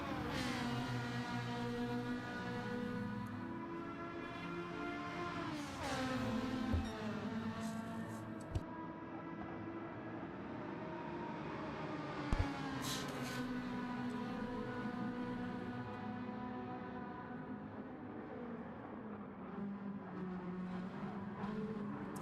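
Engines of a supercar and a family sedan in a Gran Turismo Gr4 video game race drone continuously with steady harmonic whine, pitch rising and falling through gear shifts and braking, with a couple of brief knocks along the way.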